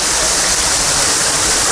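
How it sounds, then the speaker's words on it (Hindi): A huge waterfall in a dense forest near a cave roars loud and close, a dense, unbroken rush of falling water with no pauses. "देखिए कितना विशाल झरना चल रहा है"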